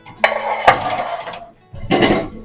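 Muffin tin clattering as it goes into a home oven while baking strawberry oat muffins: a sharp metallic clank and rattle, a second knock, then after a brief pause another burst of scraping, sliding metal, close and fairly loud.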